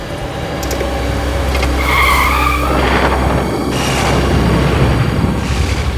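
A car on the road skids and brakes hard to a sudden stop, tires squealing for a few seconds over a loud, steady engine rumble, with no voices.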